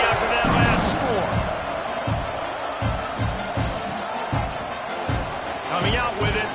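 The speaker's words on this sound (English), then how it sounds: "this crowd is buzzing after that last score" A football stadium crowd buzzes after a score, a loud, dense roar running throughout, with scattered thuds and shouts in it and a commentator talking over the top.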